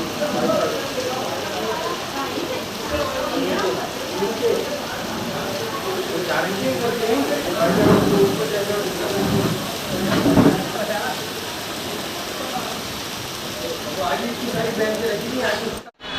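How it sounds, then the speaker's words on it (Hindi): Steady heavy monsoon rain hisses throughout on a flooded road, a dense wash of noise with occasional louder splashes, while someone talks over it. "बहुत तेज़ बारिश हो रही है"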